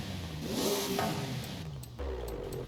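A racing V6 twin turbo engine in Forza Horizon 5 revs up in a short rising vroom, drops briefly, then picks up again, loud and close with no talking.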